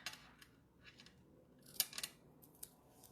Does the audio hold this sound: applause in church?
no